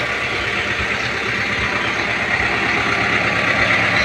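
A 2023 Kubota M6040 tractor engine idles steadily nearby, a low, continuous diesel rumble with a faint rhythmic throb and no talking.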